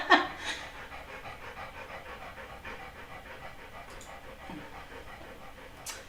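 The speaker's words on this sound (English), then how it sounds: "I don't know how to take that out of the audio. Panting." A puppy pants steadily close to the microphone, a continuous fast rhythmic huffing at moderate level with faint background noise throughout.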